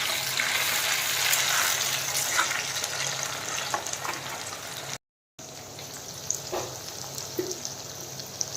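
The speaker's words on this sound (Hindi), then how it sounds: "पूरा बढ़िया से फ्राए हो गला" Food sizzles and fries steadily in a hot pan while chicken is cooked with plenty of desi onion, a constant crackling hiss with small pops and a brief break partway through.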